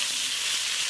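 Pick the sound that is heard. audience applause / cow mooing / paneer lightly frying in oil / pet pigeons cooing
paneer lightly frying in oil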